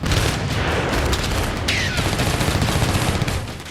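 Stored ammunition cooks off at a Ukrainian weapons depot after a missile strike: a continuous, loud barrage of crackling blasts and rapid pops, like heavy gunfire, with no pause.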